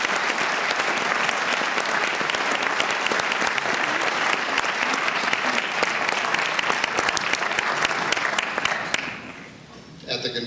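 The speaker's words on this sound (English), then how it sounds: "We have a nice round of applause." An auditorium audience at a high school fine arts hall of fame ceremony applauds in a loud, dense, sustained round of clapping lasting around nine seconds before it fades away.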